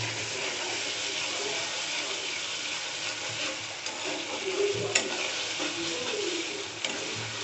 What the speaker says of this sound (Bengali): আদা রসুন আর পেঁয়াজটা একটু ভালো করে ভেজে নিচ্ছি